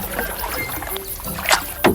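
A small boat moves across open water with a steady wash, then two distinct paddle splashes close together near the end.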